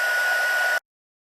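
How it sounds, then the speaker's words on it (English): Heat tool blowing steadily in a close, even rush of hot air while embossing powder on a stamped craft image, cutting off abruptly after under a second. "let's just grab our heat tool"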